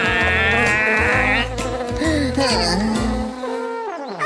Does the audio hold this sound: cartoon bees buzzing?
yes